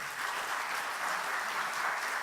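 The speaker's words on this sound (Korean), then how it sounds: "그럼 큰 박수로 한번 환영하십시다" Continuous applause from a church congregation at a Sunday evening service, steady and even in loudness from start to finish, with no voices standing out.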